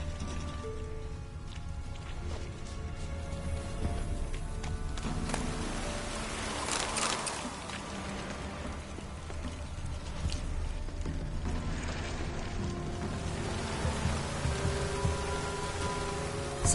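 Steady rain pours in a Witcher-style game world, a broad continuous hiss of drops with faint hoof-like clops and mechanical clatter woven through, holding level across the whole stretch.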